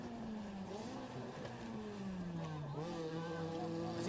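Rallycross race cars in a two-wheel-drive heat of the Global Rallycross Championship roar past with a steady loud engine drone and rising, falling pitch as they jostle for the lead, with a commentator talking over them.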